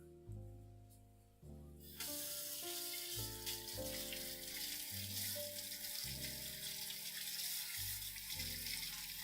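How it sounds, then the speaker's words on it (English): Radishes rinsed under a running kitchen tap, a steady stream of water splashing into the sink, quiet and close, with a soft musical backing underneath. "Then we got radishes. These I'm going to give a rinse too."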